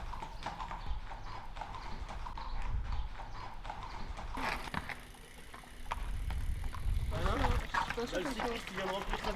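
Horses ridden at a walk on a trail-riding course through countryside near Bize-Minervois, with steady, close clip-clopping hooves throughout as a person talks over them.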